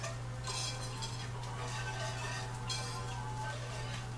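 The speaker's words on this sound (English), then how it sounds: "I can use my whisk again." A whisk stirs in a pot on the stove, quick faint metallic clinks and scrapes repeating steadily over a low constant hum, close and without talk.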